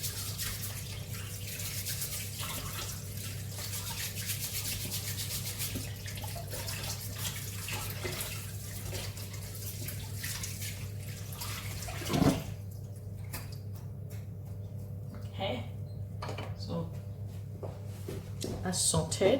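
A brush scrubs a bowl or utensil under a running kitchen tap while rock cakes are being made. The water rushes steadily, then cuts off partway through, with a person talking over it.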